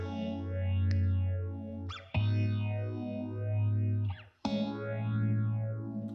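An acoustic guitar in a pop mix runs through a phaser, its sustained strummed chords swept by a slow, repeating whooshing modulation, with a couple of sharp new strums breaking in; no voices.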